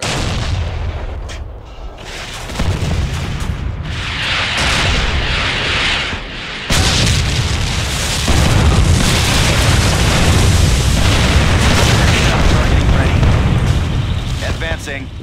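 MLRS rocket artillery in the Generals Zero Hour strategy game, a loud, dense barrage of launches and booming blasts that rolls on continuously with heavy rumble, while voiced unit lines sound over it.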